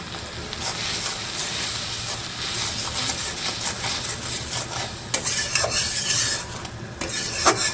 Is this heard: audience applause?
no